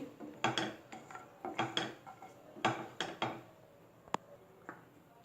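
Cashews frying in two spoons of ghee in a pan, stirred with a spoon: close, irregular scraping and rattling strokes, about eight bursts, with a faint continuous hiss underneath and one sharp click near the end, no talking.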